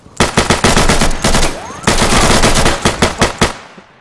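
Loud close automatic gunfire in the Insurgency video game, rapid bursts of shots running almost continuously and then breaking into a few separate single shots before stopping.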